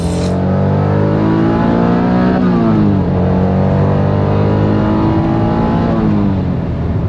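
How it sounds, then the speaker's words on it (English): A Honda NSX-R sports car accelerates hard on a town street, its engine note loud and close, climbing steadily in pitch, dipping briefly at a gear change, then rising again. "So after a couple pulls and driving this thing around town a little while"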